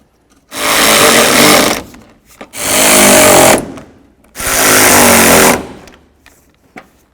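A power tool whirs in three loud, close bursts of about a second each, with short pauses between, as headlight mounting bolts go into a 2004-08 Ford F-150.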